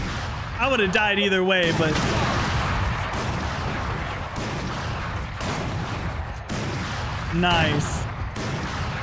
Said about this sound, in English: Those shots were insane.